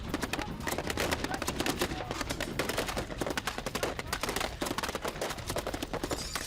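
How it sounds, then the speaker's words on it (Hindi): Sustained gunfire from a gunfight between rebels and Assad supporters in Syria, dense rapid bursts of shots crackling continuously at a steady distance with no pauses. "दो गुटों में गोलियों की बौछार जारी है।"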